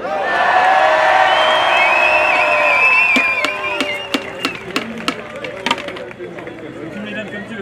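A crowd at a street demonstration against racism and fascism in Lyon cheers and whoops loudly with shrill whistles, then the noise drops away as an amplified voice begins speaking over scattered claps.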